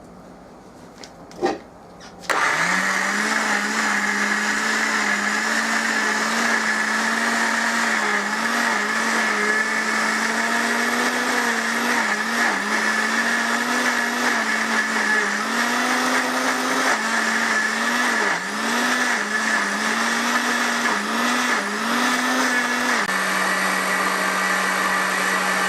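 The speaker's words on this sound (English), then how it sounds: "Then you start blending." A kitchen blender starts with a click and then runs steadily for a long stretch, loud and whirring with a slightly wavering pitch as it purees soaked beans with a little water for Nigerian akara.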